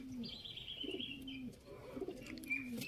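Chuha pigeons of the Hansraj line coo softly in low, drawn-out phrases, with a few faint higher chirps from other birds in the background.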